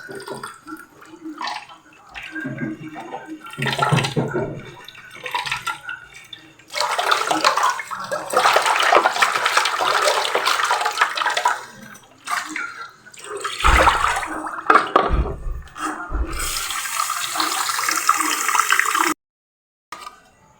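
Running tap water splashing as miracle fruit leaves are washed, coming in loud rushing bursts separated by short pauses and quieter handling sounds, ending with an abrupt cutoff.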